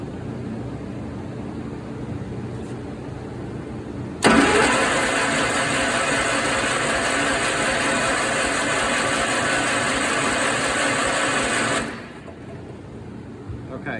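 An Allis Chalmers 314 garden tractor engine cranking over without firing, a steady churning starter drone of about eight seconds that starts abruptly and stops, with quiet background before and after.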